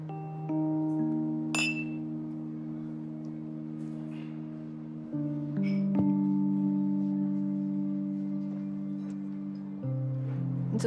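Glasses clink in a toast, two bright, brief chinks a few seconds apart ringing over sustained musical tones, with no talking.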